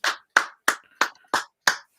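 Hands clap seven times in a steady, evenly spaced rhythm, each clap sharp, close and loud, with no talking over them.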